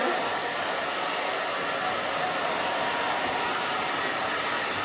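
A hair dryer blows continuously at close range with a steady, even roar while drying short hair being styled spiky.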